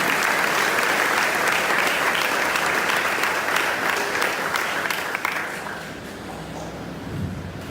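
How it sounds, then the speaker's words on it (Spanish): A large church congregation applauds steadily, a dense wash of clapping that holds loud for several seconds before thinning out near the end. "Démosle un aplauso a Cristo."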